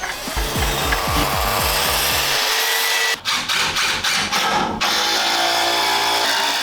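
A power drill drives screws into the wooden frame of a shelf unit inside a container workshop, a loud continuous whine with a stuttering ramp at the start and a brief chattering break midway before running steadily again.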